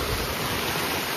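Strong gusty wind roars steadily and loudly across the microphone outdoors in Cologne on a rainy evening, a dense rushing noise that drowns out everything else for the whole moment.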